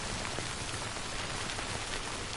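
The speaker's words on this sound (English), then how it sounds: "this is Heavy Rain." Heavy rain pouring down in the video game Death Stranding, a dense, loud, unbroken hiss of drops hitting the ground, steady throughout with no voices.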